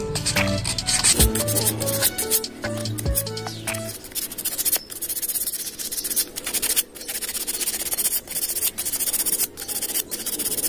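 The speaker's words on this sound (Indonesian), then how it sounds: "Nah ya, tinggal kita amplas. Berikutnya pengamplasan." A handmade survival slingshot frame is sanded by hand with coarse sandpaper, giving repeated close scratchy rubbing strokes in an uneven rhythm, preceded by a few clattering knocks at the start.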